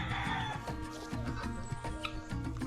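Chickens clucking and squawking close by in a busy off-grid farmyard in the Dominican Republic, with turkeys and ducks among overlapping bird calls and background animal noise throughout.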